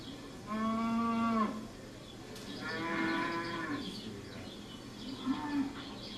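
Several cows moo in a barn with long, drawn-out lowing calls, two loud and close, then a fainter one, with quiet barn noise between them and no talk.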